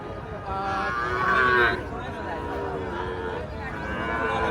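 A Sahiwal calf moos in long, drawn-out calls close by at a cattle market, while a crowd murmurs and people talk in the background.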